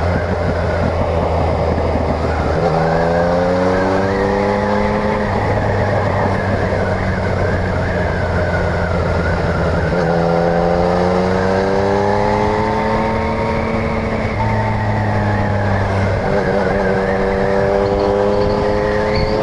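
A car engine revs and accelerates through the gears, its pitch climbing steadily then dropping at each shift, loud and continuous from inside the cabin.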